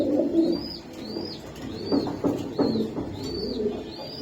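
Repeated soft pigeon coos, several rising-and-falling calls spaced through the clip, with faint chirps and background noise.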